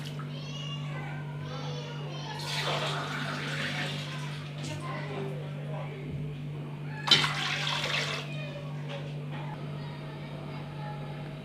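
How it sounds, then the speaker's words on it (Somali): Water pours from a glass into a pot of meat being prepared for roasting, with splashing bursts near the middle of the clip under a constant low hum and soft background voices. "Marka waa biyaan ku soo shubaa deertaan 2 galaas oo biyaan ku saaraa"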